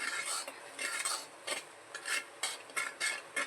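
Spoon stirring a spiced mixture with salt for dahi puri in a bowl, a quick run of rhythmic scraping strokes, close and fairly faint, about eight or nine passes.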